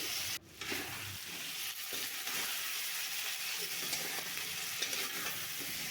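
Chili powder, ginger, garlic and cumin paste being stirred with potatoes and onion in a hot pan: a constant sizzle with scraping stirs and a sharp knock near the start.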